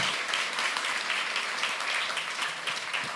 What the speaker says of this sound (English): Round of applause for Povilas.